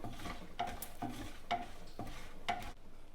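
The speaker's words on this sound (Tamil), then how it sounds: "இந்த மோர் மிளகா வந்து இதுலேயே நல்லா வறுபட்டுடும்" Mor milagai, curd-soaked chillies, frying in a pan: soft steady sizzle with a few sharper clinks and scrapes of stirring at regular intervals, close and moderately loud, no talking.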